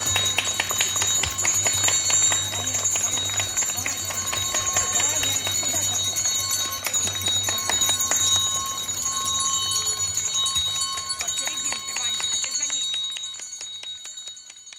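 A handheld school bell rings with rapid continuous clanging throughout a first-bell ceremony at a school, with crowd noise and some talk underneath before the ringing fades near the end.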